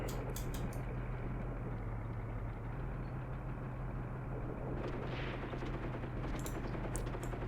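Gunfire exchange in the tank battle game Graviteam Tactics, set against a steady low engine rumble, with a few sharp distant reports near the start and end and a muffled blast partway through.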